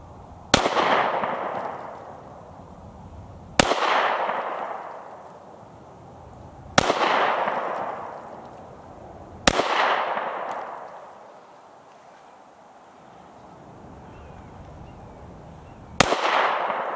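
Five sharp Mossberg MC1sc pistol shots at a shooting range, spaced a few seconds apart, each a loud crack followed by a long echoing decay, with no talking.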